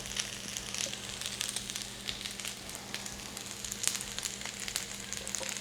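Food sizzles in a pan as a quiet, continuous frying crackle, with small pops scattered throughout and no one speaking.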